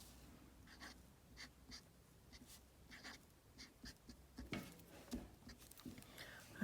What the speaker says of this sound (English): And now I'm going to take my markers and I'm going to illustrate some of those things